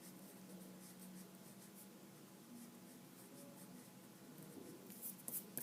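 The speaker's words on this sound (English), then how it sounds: "I'm just going to erase that skeleton" An eraser rubbing out pencil lettering guidelines on paper, a faint, close, continuous scrubbing with soft back-and-forth strokes that grows slightly more pronounced near the end.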